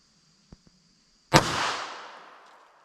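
.380 ACP pistol firing a single Magtech 95 grain jacketed hollow point round from about 5 yards: two small clicks, then one sharp loud report with a decaying outdoor echo.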